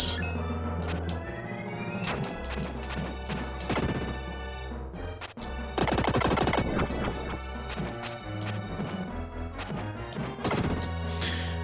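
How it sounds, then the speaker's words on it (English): Enemy explosion effects from the 1993 SNES game Illusion of Gaia, a few sharp crunchy bursts scattered among chiptune music, with a dense crackling cluster near the middle, no talking. "The only recycle thing you've noticed so far is the sound when the enemies explode."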